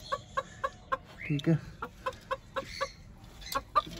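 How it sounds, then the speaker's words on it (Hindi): A penned rooster, kept apart from other birds, gives a run of short, evenly spaced clucks close by, with one louder squawk midway and a brief spoken phrase. "इस मुर्गे को अलग किया हुआ है क्योंकि ये आपस में लड़ पड़ते हैं"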